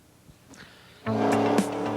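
Formula Vee race cars at Mid-Ohio during the SCCA Runoffs, quiet at first, then a loud engine roar swells in abruptly about halfway through and holds steady as the cars pass close by.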